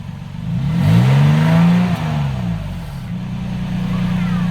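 A pickup truck engine with a cut exhaust revs up, climbing to a roar, easing back, then settling into a steady low rumble nearby.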